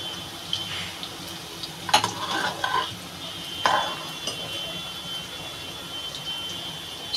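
Garlic fries in a pan of oil for spinach dal. A low, steady sizzle runs throughout, with a few brief clinks and scrapes of stirring near the start. The sounds are fairly quiet and there is no speech.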